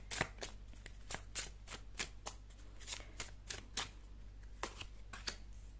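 Tarot cards being shuffled and drawn for a pick-a-card reading, a rapid series of crisp riffling snaps and flicks close by, steady and alone with no talking.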